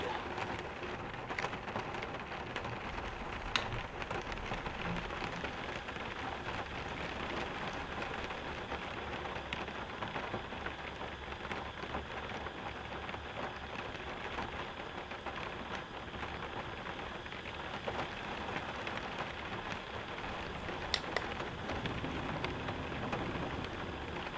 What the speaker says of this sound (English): listening to the sound of the rain on the roof here